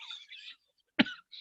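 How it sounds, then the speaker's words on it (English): A single sharp, close cough bursts out between softer breathy sounds, brief and isolated against near silence. "My coughing gets a little bit best of me when I get a little excited here."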